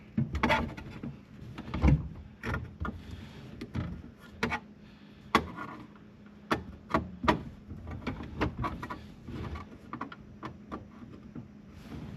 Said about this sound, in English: I'm going to take the ashtray out to make it easier to get my hand up in here